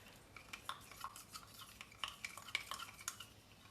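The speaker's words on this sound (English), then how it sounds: "So very quick stir before putting it inside." White colorant is stirred quickly into a homemade soap mixture, producing a run of light clinking and scraping taps from a utensil against the container, close but quiet, at an irregular quick rhythm.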